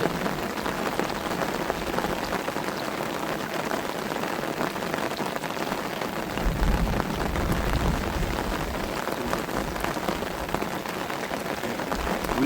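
Monsoon rain falls steadily beside a fish enclosure during fishing, a dense, even patter on surfaces with no talking, holding at the same level throughout.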